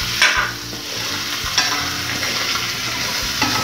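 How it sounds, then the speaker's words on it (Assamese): Potatoes frying in a pan for an Assamese taro curry, with a steady close sizzle and sputter throughout, broken by a few sharp scraping stirs of a utensil. "আলুখিনি অলপ ভাজি ল'ব লাগিব"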